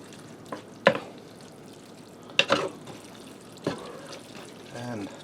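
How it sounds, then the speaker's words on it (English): Broken boiled spaghetti is mixed into marinara sauce in a pan, giving a few sharp utensil knocks and wet, squelchy stirring sounds between quieter moments, up close. "And just mix that sauce in there good."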